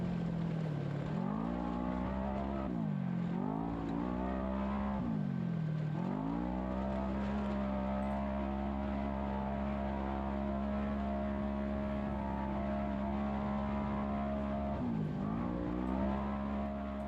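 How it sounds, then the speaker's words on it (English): An off-road race vehicle's engine at full throttle during the Baja Nevada desert race, a steady loud drone with harmonics that dip and swing back up several times as the engine briefly lifts off and pulls again; no talking. "Just listening to his throttle, he's on it pretty good."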